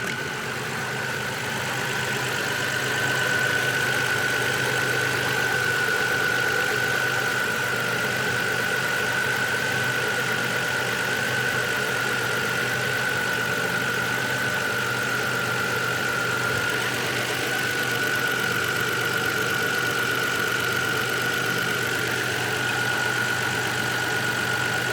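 A 2009 Hyundai Grandeur TG with an LPI engine idles steadily and close by, giving a continuous even hum with a faint high whine running through it for the whole stretch, with no talking.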